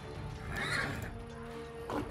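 A plague horse from Pathfinder: Wrath of the Righteous gives a clear neigh in the fantasy game, with a rising whinny in the middle and a shorter snort near the end over low ambient game noise.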